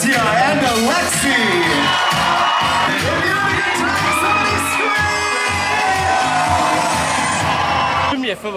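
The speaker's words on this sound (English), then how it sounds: "keep that applause going for Mope!" Cruise ship theater audience applauding and cheering with whoops and shouts, loud and sustained, while a host talks over the crowd.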